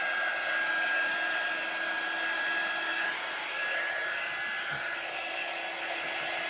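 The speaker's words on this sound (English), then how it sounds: "use a hair dryer" A hair dryer blows steadily on craft paint to dry it, a close, loud, unbroken whooshing hum with a faint high whine, running alone without speech.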